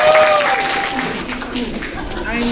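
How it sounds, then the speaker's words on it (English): A crowd at a community open house for a student success center in South Sacramento applauds loudly and steadily, clapping sustained throughout with voices and cheers mixed in. "Let's give her a big round of applause."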